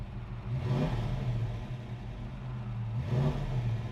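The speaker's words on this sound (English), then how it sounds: "We just started the car" A 1967 Ford Mustang GT K-code engine runs steadily after starting, with two distinct revs about three seconds apart, a mid-pitched motor hum throughout, fairly close.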